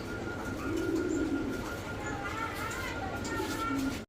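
Pigeons at a pigeon sale centre coo continuously in the background, a dense steady murmur of many birds with talking over it.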